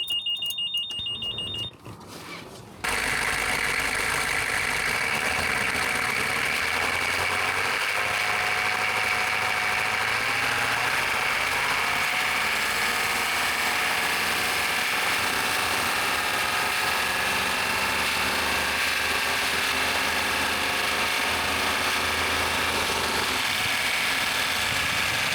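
A GMC 6.5 turbo diesel truck engine with an aftermarket turbo drones steadily while driving, a loud continuous hum with a whining turbo tone that starts abruptly after a short quieter moment.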